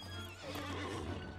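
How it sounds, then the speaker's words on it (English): Quick game sound from Lord of the Rings Online: a horse neighs over a few hoof clops, very short and soft, with no talking. "That's a neat horse."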